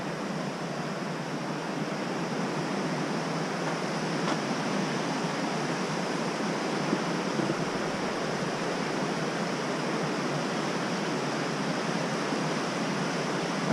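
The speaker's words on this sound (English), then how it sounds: "it goes right across the entrance of a creek into this river" A creek flowing into a river at a crossing in Kings Canyon National Park, giving a steady broad rushing wash of water that stays even and continuous throughout, with no talking.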